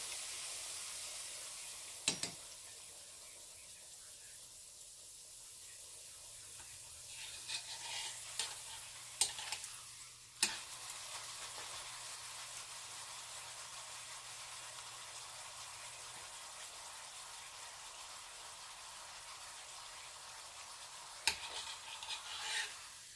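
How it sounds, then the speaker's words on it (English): Steady, quiet sizzling of chicken or turkey frying in a pan for an enchilada casserole, with a few sharp clicks and scrapes of stirring scattered throughout; no talking. "That's really sizzling."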